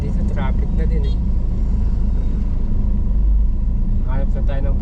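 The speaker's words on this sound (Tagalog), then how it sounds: "Kahit dito traffic na din eh." Busy road traffic with a steady low rumble of cars and engines passing close by, continuous and fairly loud throughout, with people talking briefly at the start and again near the end.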